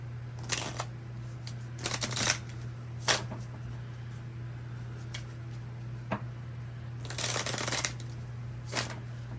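A deck of tarot cards being shuffled in bursts of riffling, with several separate shuffles and short taps between them over a steady low hum; close and fairly quiet, no talking.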